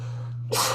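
A single sharp, close sneeze erupts from a man during a live Raptors–Lakers basketball watch-along, following a moment of quiet low hum.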